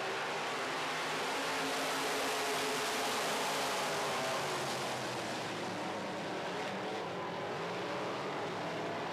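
Midwest modified race cars roaring around a track together at the start of a feature race, a dense, steady wash of engine noise heard from a distance with no talk.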